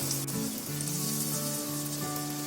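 Chicken samosas fry in hot oil, giving a steady, moderately loud bubbling sizzle with a low hum underneath and no voices.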